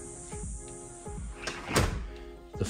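A solid wood front door opens into a house with a few thunks and knocks, followed by a louder clatter near the end, close by and without speech.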